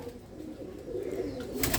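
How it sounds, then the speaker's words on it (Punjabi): Domestic pigeons coo steadily from nearby, with fluttering wing movement and rustling in a loft or coop setting, continuing throughout with no talk. "ਆਪਾਂ ਆਹ ਕਬੂਤਰੀਆਂ ਉੱਡੀਆਂ ਨੇ ਬਾਜੀ"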